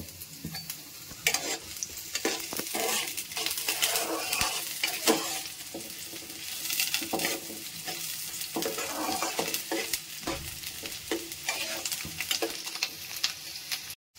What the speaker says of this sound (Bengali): পেঁয়াজগুলোকে আমি একটু ভেজে নেব।